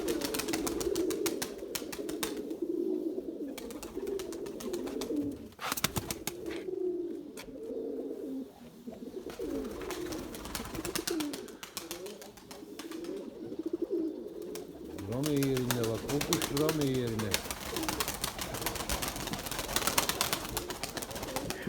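Pigeons coo repeatedly in low, throaty rolling calls, close by, with rustling and light clatter around them and little talk.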